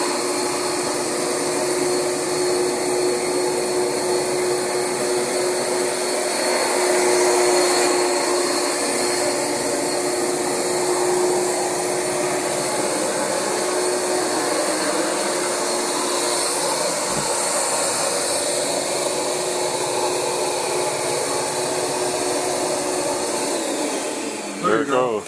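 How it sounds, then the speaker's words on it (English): A Rug Doctor X-3 carpet cleaner runs on dirty carpet with ammonia cleaner, giving a loud, steady motorized whine and rushing suction that holds for the whole stretch before cutting off at the very end. "As you can see, the rug doctor is amazing."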